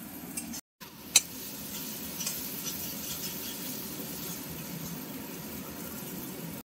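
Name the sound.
masala (spice paste) frying in oil for Bombay duck curry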